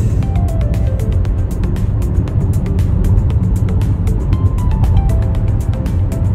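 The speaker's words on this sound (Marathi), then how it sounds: "क्रूज मोड मध्ये मस्त आमची गाडी आता चालली आहे हायवे वरती" A car cruises along a highway on cruise control, giving a steady droning road and engine rumble throughout, with regular ticking clicks heard over it and no speech.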